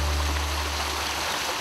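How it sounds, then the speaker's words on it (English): Running water from a backyard water feature pours and splashes steadily, a full, continuous rushing wash with a low rumble underneath and no voices over it. "One of my favorite features to a landscape is the sound of running water"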